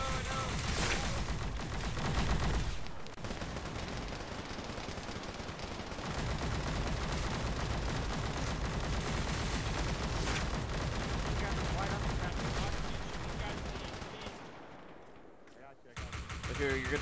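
Sustained gunfire crackles through a video game battle, dense bursts of shots running almost continuously with a brief lull near the end, while voices talk over the fighting.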